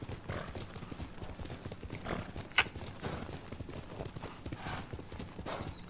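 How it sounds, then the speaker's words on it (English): Clip-clop of a horse's hooves in the video game Ghost of Tsushima, a steady galloping rhythm heard up close over continuous game ambience, alone without talk. "Sora is a good horse."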